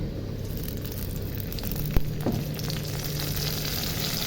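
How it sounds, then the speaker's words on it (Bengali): Chopped green chillies fry in mustard oil with a steady, close sizzle, broken by a sharp pop or two near the middle. "সরষের তেল দেওয়ার পরে আমি এখানে লঙ্কা দিয়ে দেবো"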